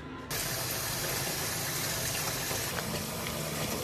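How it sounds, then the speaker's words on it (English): Tap water pours steadily into a sink, a loud, even broadband rush that starts abruptly and keeps running without a break, with no voices over it. "let me fill the sink first"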